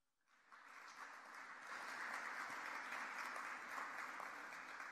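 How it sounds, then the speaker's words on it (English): Applause at a college athletics awards show honoring lacrosse and soccer, the clapping swelling in quickly from silence and holding steady as a dense, moderately distant wash with no talking. "Applause for lacrosse and soccer."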